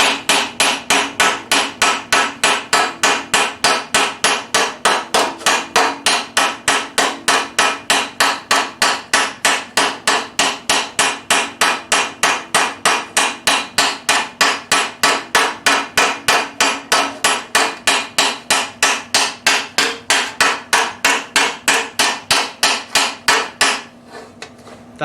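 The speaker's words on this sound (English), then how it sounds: "At this point I've been planishing for a while and I've got a pretty smooth surface" Planishing hammer blows ring on metal armour greaves in a fast, perfectly even rhythm, loud and close, continuing for about twenty-four seconds before stopping, with no voices.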